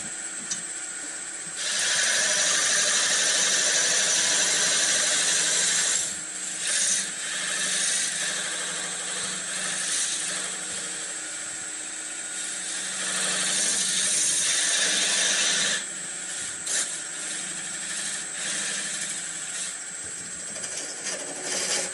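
A wood lathe turns a wooden baseball bat, a steady high whirring drone that swells into louder bursts of cutting and sanding noise, then eases back between passes.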